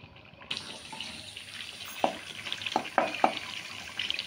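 Karahi gosht with tomatoes frying in a pan, a steady soft sizzle with a few sharp stirring clinks and scrapes, close and alone without talk.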